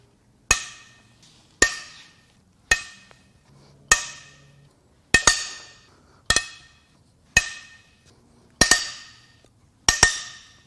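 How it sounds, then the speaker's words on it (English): Head bolts being cracked loose on a VW Jetta 1.9 TDI ALH/AHU diesel engine with a failed head gasket: nine sharp metallic cracks at roughly even intervals, each ringing briefly before fading, close and loud with no talking. "Now it's time to crack the head bolts loose."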